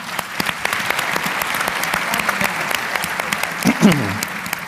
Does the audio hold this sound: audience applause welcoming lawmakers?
yes